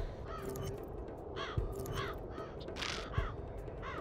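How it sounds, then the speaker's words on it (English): Crows caw in the VR game Trickster VR, harsh calls repeating in a loose rhythm over about four seconds, mid-distance, with a couple of low thumps mixed in and no talking. "looks like crow killing again"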